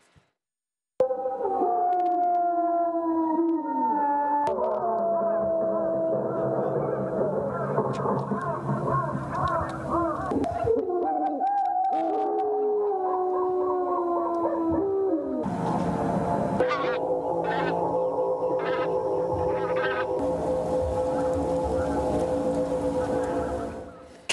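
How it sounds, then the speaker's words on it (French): Several wolves howl together, long wavering tones rising and falling and overlapping, loud and sustained, with a harsher chorus of yips joining toward the end. "Des loups, des cris. Des hurlements, oui."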